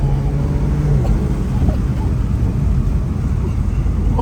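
A twin-turbo Infiniti Q60 Red Sport accelerates hard from a dig, its engine roaring loud and steady from inside the cabin with heavy low rumble and wind buffeting, a brief rising tone early on.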